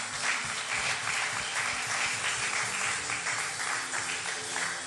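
A church congregation applauds steadily at a sermon, a dense, sustained wash of many hands clapping, moderately loud and even.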